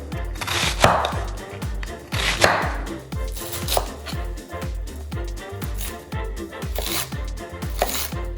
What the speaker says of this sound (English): So now that we've got the lettuce, cabbage mostly chopped up, you're sort of gonna, give it a nice rough chop